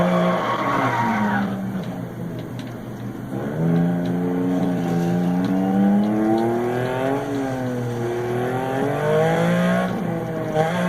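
A rally car in the Dirt Rally video game slides and skids on a German stage, its engine note rising and falling in steady sweeping revs, loud and close throughout with no talk.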